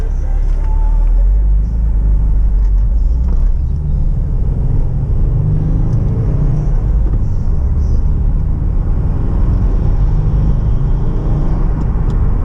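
A Subaru WRX with a Cobb exhaust cruises along a road, its steady, deep exhaust drone and road rumble heard from inside the car with a window cracked open, loud and continuous throughout.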